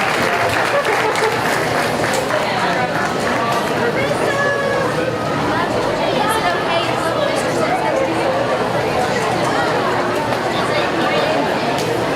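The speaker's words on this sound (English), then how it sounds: "Let's give all of our sponsors a round of applause, everybody." Spectators at a county fair goat show clap for the sponsors, and the applause blends with loud crowd chatter and voices throughout, filling the whole stretch at a steady level.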